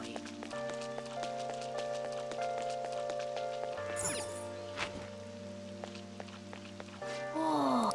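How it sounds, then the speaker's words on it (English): Steady rain patters on a surface beneath droning synthesized music in Persona 5 Royal, with a few brief swishing effects breaking through. "Oh, this rain is so annoying."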